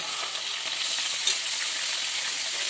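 A large fish of about a kilogram frying in hot oil, with a loud, continuous close-up sizzle and fine spattering crackle and no pauses. No talk.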